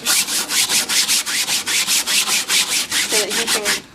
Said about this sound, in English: So I am scrubbing off the paint